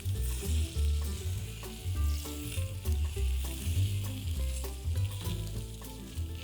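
Brown-sugar-coated bacon slices sizzling on a smoker, heard as a loud, dense, close crackle that carries on throughout, broken by repeated scraping and stirring from a utensil.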